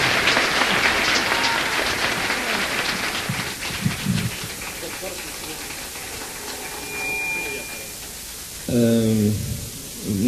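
A 1979 concert audience applauds in a broad, hissing wash of clapping that gradually thins, with a few stray sounds and a brief tone near the end.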